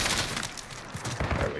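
CTAR-21 SBR rifle firing in Call of Duty Modern Warfare, a few quick bursts of shots with impacts among background game noise, moderately loud, no talking heard.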